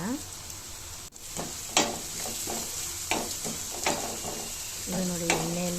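Garlic frying in a pan for spicy garlic rice, a bright continuous sizzle with repeated scraping stirs and clinks of a spatula, close up, with no talk.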